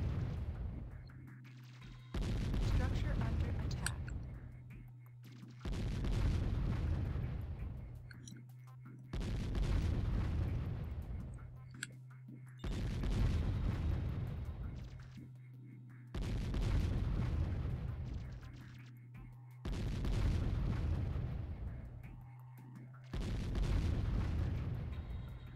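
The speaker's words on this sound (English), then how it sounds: "it shot the wall instead of shooting over the wall." Artillery-type weapons in the video game Warzone 2100 fire at a wall, sending out a slow series of six heavy booms roughly four seconds apart, each with a rumbling decay and no talk over them.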